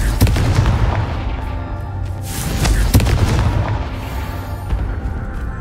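Confringo spell blasts in a video game set in Feildcroft: deep booming explosive hits near 0.2 and 3 seconds over a continuous rumbling, crackling game background, loud and close, no talking.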